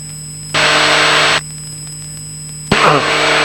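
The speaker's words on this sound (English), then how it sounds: "with all the engine noise, you probably have to speak up quite a bit so that I can hear you" Steady broadband engine roar inside a small airplane's cockpit, heard in two loud sustained bursts separated by a quieter stretch with a constant hum and tones; no talking.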